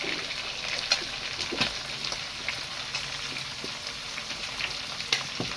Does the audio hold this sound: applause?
no